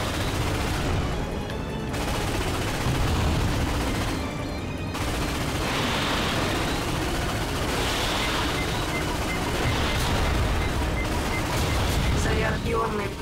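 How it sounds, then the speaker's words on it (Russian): Dense, continuous bursts of gunfire, torpedoes and booming explosions from a Ratchet & Clank battle on PS4, loud and sustained throughout with rapid repeated blasts. "Ничего себе там шмаляет. Торпедами всякими."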